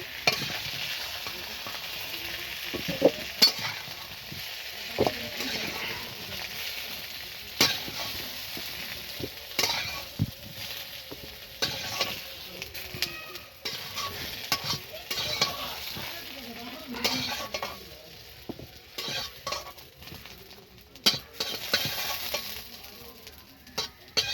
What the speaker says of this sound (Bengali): সুন্দর করে তুলে নেব, লাল লাল করে ভেজে নেবে।